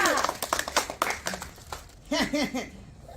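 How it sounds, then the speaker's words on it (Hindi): Children clap at a village Republic Day (26 January) celebration, a few scattered claps audible beneath someone speaking loudly nearby. "तालियां बच्चे लोग, तालियां तालियां"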